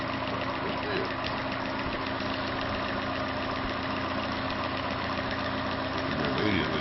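Electric motor of a homemade free-energy generator with a spinning wheel, running with a steady buzzing hum and hiss at moderate level.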